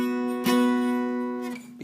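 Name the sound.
guitar chord shape played in B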